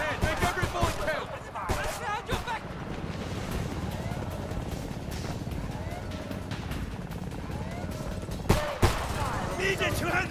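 Gunfire in the video game Homefront rattles steadily through a busy battle mix, with sharp shot bursts near the start and a louder crack late on, while voices talk over it.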